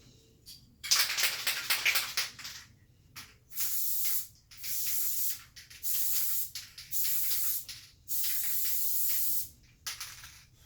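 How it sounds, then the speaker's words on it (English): Spray paint hisses from an aerosol can onto a stainless steel tumbler in a run of short bursts, first a longer spray then about five evenly spaced close, loud blasts with brief silences between. "I'm just going to spray right here."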